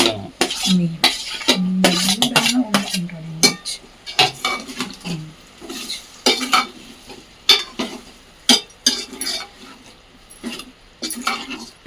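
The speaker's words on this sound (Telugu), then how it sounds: "ఇవి కొంచెం సేపు ఆయిల్లో మగ్గాలి" Tomatoes, onions and green chillies cooking in oil in a pan, heard as repeated scraping stirs and clanks of a metal spoon against the pan with a faint sizzle underneath, close by, with brief bits of speech.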